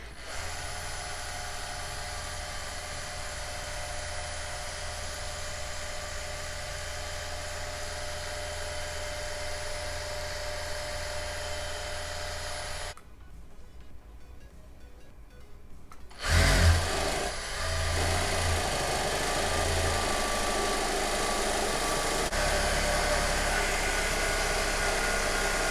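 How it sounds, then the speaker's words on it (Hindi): An Usha S2 single-needle lockstitch sewing machine winds thread onto its bobbin with the pedal pressed, a steady close mechanical whir. It halts briefly, then restarts with a louder, fuller hum and a few low thumps. "एक्सीलेटर इस तरह से दबाने के बाद इसमें से धागा भरना स्टार्ट होगा"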